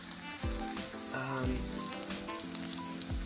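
French toast sizzling on an Ovente reversible griddle, a steady close frying hiss with soft crackles, running alone without voices.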